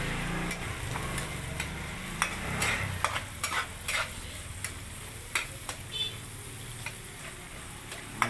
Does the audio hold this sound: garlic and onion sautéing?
yes